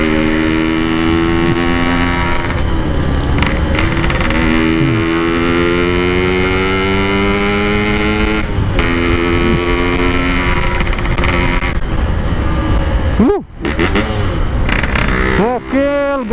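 Yamaha RX King two-stroke motorcycle engine, loud and close, revving up and down repeatedly with rising and falling pitch sweeps and a sharp throttle blip near the end, while someone talks over it.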